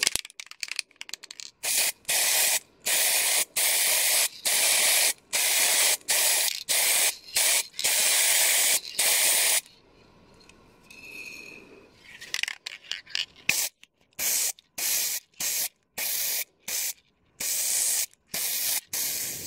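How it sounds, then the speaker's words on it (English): A spray paint can hisses in repeated short bursts over wooden drawer boxes, each spray lasting about a second with sharp gaps between. A quieter pause midway is followed by more rapid, choppy spraying. "I'm really curious how they will look like after spray painting"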